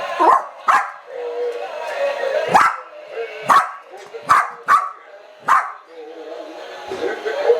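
A little black dog barks in short, sharp yaps, about eight of them at irregular intervals, close and fairly loud, with quieter whining and rustling between the barks.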